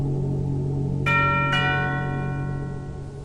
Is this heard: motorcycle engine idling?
no